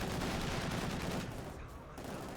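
A Stuka close air support plane strafing with 37mm cannons in the game Company of Heroes 2, a dense rapid burst of gunfire and explosions, loud and continuous before easing slightly.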